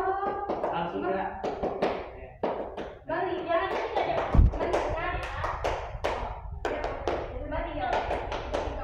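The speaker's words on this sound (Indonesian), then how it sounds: "Maksudnya tepukannya, Bu" Sharp hand claps from a classroom clapping game ring out in short bursts, mixed with a teacher and children speaking and chanting.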